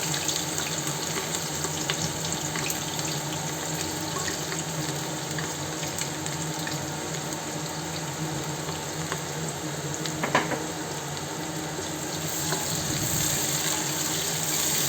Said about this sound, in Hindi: तो ये मेरा तेल गर्म हो गया था, और इसमें मैं प्याज डालूँगी फ्राई करने के लिए